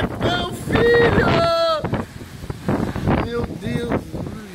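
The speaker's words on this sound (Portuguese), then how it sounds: "Olha a ventania, velho." Strong wind gusts roar and buffet the microphone on a city street, loud and continuous, while excited voices call out over the blustering air.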